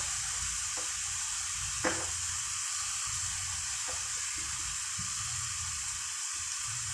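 Ginger-garlic paste sizzles in plenty of hot oil in a pan for a spicy whole cluster-bean dish. The frying hiss is steady and soft, broken by a few clicks and scrapes of stirring.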